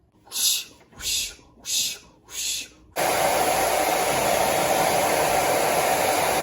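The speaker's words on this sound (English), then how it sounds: "Now I use my ceramic blow dryer." A few short hisses of air, then a steady, loud ceramic hair dryer roar runs continuously for several seconds at close range.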